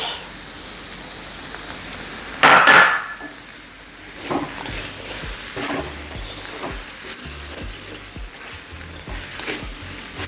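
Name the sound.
bok choy stir-fried with vegetable nasi goreng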